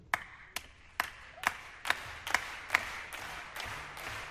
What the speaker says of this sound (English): I want you to give me your clap this way.